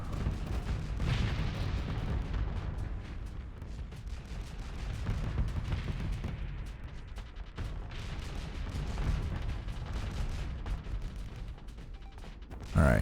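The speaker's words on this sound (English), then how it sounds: "Fire off some missiles." Missile launches and explosive space-combat fire in the video game Starsector, a steady dense barrage of booms and blasts rolling on for the whole stretch, loud and continuous with no talk.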